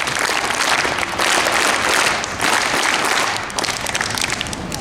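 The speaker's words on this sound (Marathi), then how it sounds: "3 टाळ्या आपल्या स्वतः करता एकदा वाजवा." A school audience at a Marathi language day event bursts into loud, dense clapping, a thick wash of applause that swells and dips in a few surges before easing off.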